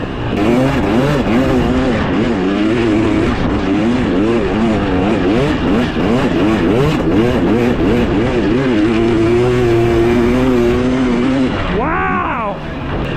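A 2023 Husqvarna TX300 two-stroke dirt bike ridden through sand, its engine revving loud and close with rising and falling pitch as the throttle works, then a brief higher rev near the end; a rider's voice comes through intermittently over the engine.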